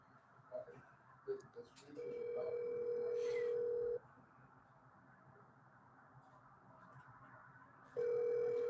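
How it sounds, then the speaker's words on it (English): A telephone call rings out unanswered during a live stream: a steady ringback tone sounds for about two seconds, pauses for roughly four, then starts again, over a low room hum with no talking. "He called Jay Mills real quick"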